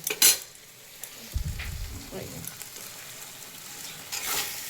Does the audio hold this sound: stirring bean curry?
yes